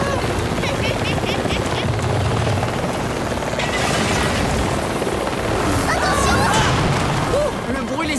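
A cartoon helicopter roars in a loud, continuous rotor clatter throughout, mixed with crashes and impacts and squeaky cartoon effects, with animated voices shouting over the noise.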